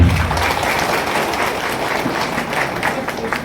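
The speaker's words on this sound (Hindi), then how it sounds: "जोरदार तालियों स्वागत।" Loud, sustained applause from a crowd at a tasar silk industry training programme for farmers, steady dense clapping welcoming an honoured guest being felicitated.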